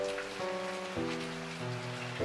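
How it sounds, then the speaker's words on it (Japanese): Typhoon rain driven sideways by a strong east wind at an old farmhouse on the Kibi Plateau in Okayama, a steady wash of close rain noise that runs alone over low sustained tones throughout. "やっぱり東の風が強くなって、もう横殴りっぽいですね、雨が。"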